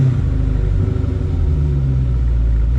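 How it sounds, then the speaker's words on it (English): A Dodge Challenger's engine idles and revs in a deep, close rumble, the low throaty growl swelling and easing slightly over a few seconds with no voices. "Let's go ahead and rev up the engine a little bit."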